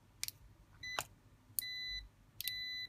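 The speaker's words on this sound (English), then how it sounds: "I've enabled the blue button, which on this meter lets it make a noise when you get a circuit" A multimeter's continuity tester gives several short electronic beeps, each with a click of probes touching, some sustained for about half a second, quiet and close with no talk.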